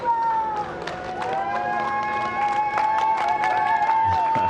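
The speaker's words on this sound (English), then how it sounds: "Small crowd, but big cheers" A small crowd cheering and clapping for NASA astronauts Bob Behnken and Doug Hurley before a SpaceX flight, loud continuous shouts and applause with a high tone running steadily underneath.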